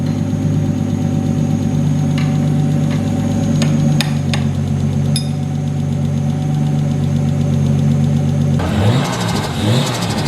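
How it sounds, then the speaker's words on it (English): A turbocharged RB25 engine in an R33 Nissan Skyline runs steadily and loudly nearby on its first start after assembly, with a rough mechanical rumble, a few sharp ticks, and a louder surge near the end. "Oh, this car runs beautifully."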